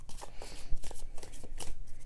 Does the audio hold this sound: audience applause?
no